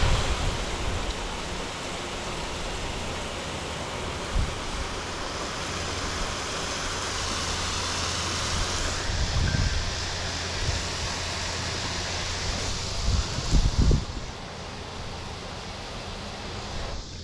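Heavy rainwater rushing through a gutter full to the brim and spilling over its edge, a dense, continuous close roar with brief louder splashes toward the end.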